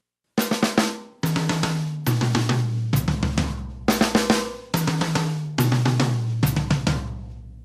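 Drum flurry fill of four notes taken from six sixteenth-note triplets, played on toms as crisp grouped bursts that repeat about eight times with short gaps, each group stepping down in pitch, loud and close with no talking.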